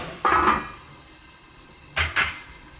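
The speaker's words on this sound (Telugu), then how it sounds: "టమాటా కలిపేసి ఒకసారి మూత పెట్టాలి." Metal spoon clattering against a steel pot as tomato is stirred into an egg curry, two short bursts of scraping and clinks separated by a quiet pause, close and fairly loud.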